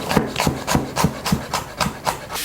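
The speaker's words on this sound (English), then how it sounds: "Slice the onion." Knife slicing an onion into thin slices on a cutting board for Japanese curry: about nine evenly spaced chopping strokes, steady and close, with no talking.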